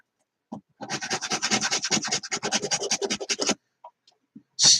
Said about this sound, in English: Hot filing action.